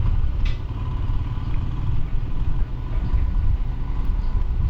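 Royal Enfield Himalayan BS6 adventure motorcycle being ridden, a steady low engine drone with wind and road rumble, continuous and fairly loud throughout with no speech.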